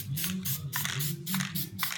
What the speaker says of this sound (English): But you hear the nozzle. I'm on and off